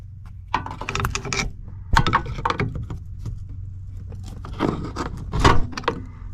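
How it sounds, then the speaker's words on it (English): Prying the shifter linkage loose from a VW Beetle transaxle, heard as close metallic clanks, scrapes and rattling knocks in irregular bursts, with no talking. "You can just grab the shifter and kind of work it loose. You may have to get a pry bar"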